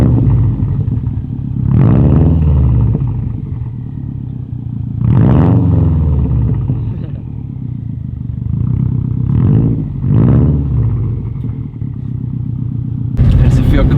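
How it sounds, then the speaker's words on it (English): A Subaru STI with a Tomei catback exhaust revs repeatedly, its deep burbling idle rising into several loud, swelling blips a few seconds apart, close to the microphone. "This is definitely the catback that I'm gonna switch to on my STI."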